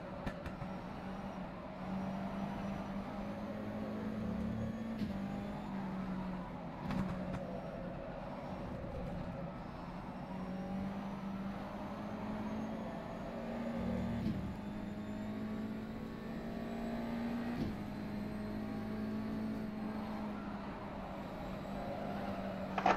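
A Mazda USF 2000 open-wheel race car engine in the rFactor 2 racing game, lapping Lime Rock Park, hums as a fairly quiet, sustained tone that rises and falls with the revs, with faint shift bumps and no voices.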